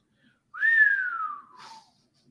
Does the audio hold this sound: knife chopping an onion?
no